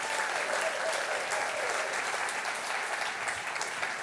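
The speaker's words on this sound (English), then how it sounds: "A warm applause, Niko Marković." An audience at a fashion festival evening applauds a designer, a steady, even wash of clapping that fills the whole stretch without voices over it.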